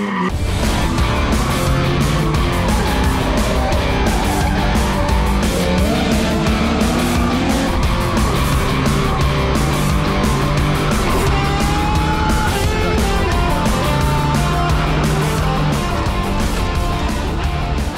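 A drift car slides on EXTREME TYPE X tires with continuous loud tire squeal over a roaring, revving engine, pitch rising and falling through repeated throttle blips, close and intense throughout with no talking.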